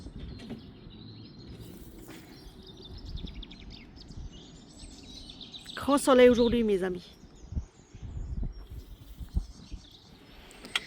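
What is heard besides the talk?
birds singing outdoors near a chicken coop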